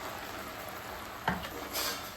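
Ground ridge gourd paste stirred into a hot tempering in a pan gives a soft, steady sizzle with a brief scrape of the spoon near the middle and a swell of frying toward the end, no talk.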